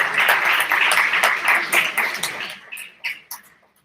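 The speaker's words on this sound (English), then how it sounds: "please can we give the family a round of applause?" Audience applause at a leadership lecture event, a dense burst of clapping that holds for a couple of seconds and then breaks into a few scattered individual claps before dying away.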